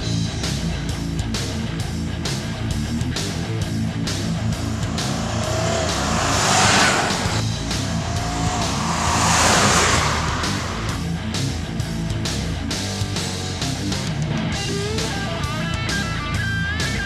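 A 2016 Audi Q7 SUV engine roars loudly and continuously, revving higher and swelling twice as it accelerates hard from a standstill, with a faint tire squeal.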